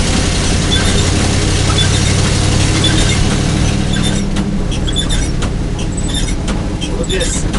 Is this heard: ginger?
no